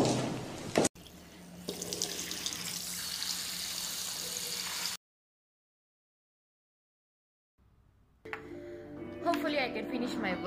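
Water runs from a tap into a sink for face washing, a steady close rush for several seconds that cuts to silence, then starts again with splashing.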